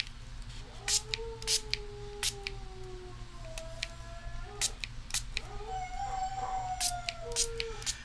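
A dog with separation anxiety howls and cries from outside, several long wavering wails rising and falling, somewhat distant, mixed with sharp intermittent clicks and a low steady hum.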